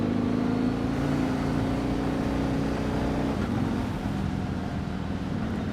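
A 2009 Yamaha MT-01 SP with a big V-twin engine cruises through the twisty roads of Hakone, Japan, its steady low engine drone mixed with heavy wind rush, the pitch dropping slightly partway through.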